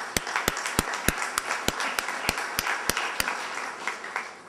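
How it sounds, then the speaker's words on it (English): A lone person claps slowly and steadily at a Humane Society luncheon, about a dozen crisp, evenly spaced claps over a quiet room tone, fairly faint. "I just want to give a little clap for you and for them"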